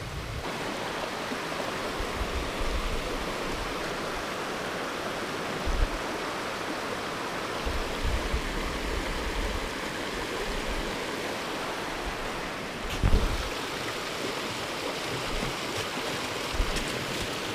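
Forest creek flowing over rocks at Stepp Creek in Buffalo National Forest, a steady broadband rushing wash, close and continuous, with a few soft thumps and no speech.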